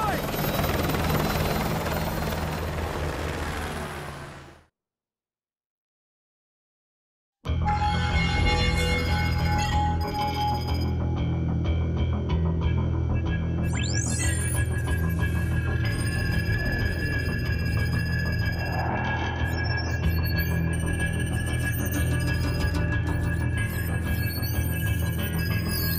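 A helicopter in the video game Call of Duty: Modern Warfare 2 Campaign Remastered gives a loud, steady rotor and engine drone. It cuts to silence for a few seconds, then resumes with faint voices and game effects in the background.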